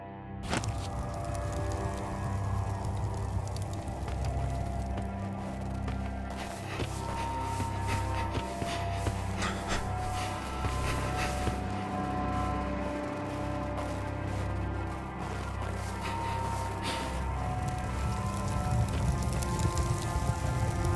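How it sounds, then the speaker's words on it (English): Hail falls in a steady, dense patter with scattered sharper cracks, a constant moderately quiet wash of impacts without voices. "Oh, shit! Hail!"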